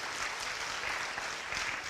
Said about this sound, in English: So give He Ping a big round of applause.